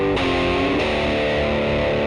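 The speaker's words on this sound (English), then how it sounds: "So I'm going to change this here to a 1x12 tweed cabinet, and we'll mic it on axis for a completely different type of sound." An electric guitar plays a sustained, heavily distorted chord through an amp simulator set to an on-axis miked 1x12 tweed cabinet, loud and dense, with a fresh strum partway through.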